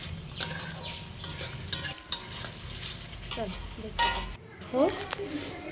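A spice masala with cumin powder is sautéed in oil with a splash of water for a mutton curry, sizzling as a spoon scrapes and clinks against the pan, with a voice speaking briefly.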